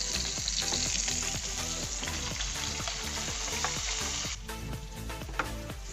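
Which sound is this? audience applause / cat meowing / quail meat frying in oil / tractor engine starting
quail meat frying in oil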